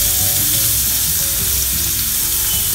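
Onions frying in oil left over from frying chicken, a steady loud sizzle with no break for the few seconds, no voices.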